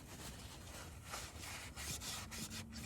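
A rag rubs and wipes across the oil filter housing of an LBZ Duramax diesel engine, giving soft, continuous scrubbing strokes that are close and faint, with no talking.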